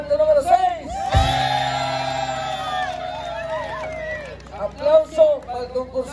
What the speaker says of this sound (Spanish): ¡Aplauso para el concursante número 6!